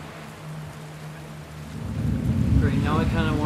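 Steady rain hisses in The Last of Us Part II, with a low thunder rumble swelling midway, the storm growing louder and closer toward the end.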